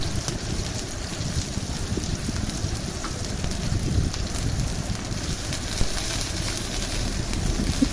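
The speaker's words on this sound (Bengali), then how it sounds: "তিন চামচের মতো অলিভ অয়েল দিয়েছি মাদারি সাইজের একটা পেঁয়াজ দিয়েছি পেঁয়াজটা গরম হয়ে আসবে" A medium-sized onion fries in about three spoonfuls of hot olive oil for a Bengali fish curry, giving a continuous close sizzle and crackle with scattered pops and no voices.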